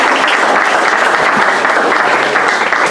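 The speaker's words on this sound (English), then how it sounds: "So now for the live round of applause." An in-person audience at the TADSummit tech conference gives a loud, dense and continuous round of applause for a presentation, with no voices.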